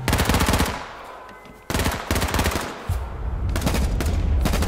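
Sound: gunfire in the video game H1Z1: Battle Royale

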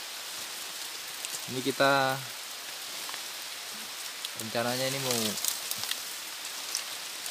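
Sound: rain falling in the forest

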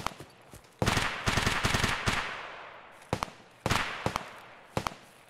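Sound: gunfire, a scav being shot by a player in Escape From Tarkov video game

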